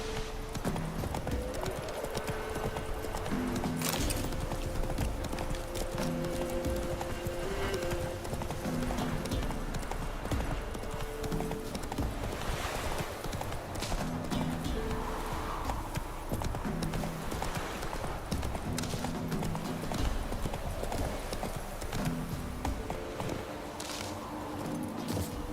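Roach, a horse in The Witcher 3, trots with steady clip-clop hoofbeats over a constant bed of game ambience and music, with an occasional faint whinny.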